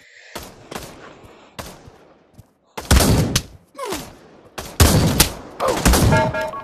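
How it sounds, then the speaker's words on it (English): A gun fires in a VR shooter game, a series of loud, sharp shots in irregular bursts, some closely spaced, with brief pauses and faint clatter between them. "I love this gun."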